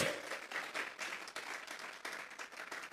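A church congregation applauds steadily during a sermon, a dense wash of many hands clapping at moderate distance, continuing throughout without pause.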